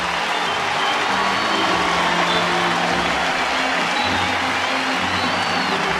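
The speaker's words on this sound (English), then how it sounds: "he'll get a standing ovation from an appreciative crowd" A baseball stadium crowd gives a dense, roaring standing ovation for a departing Dodgers pitcher, a loud continuous wash of applause and cheering from a large distant crowd.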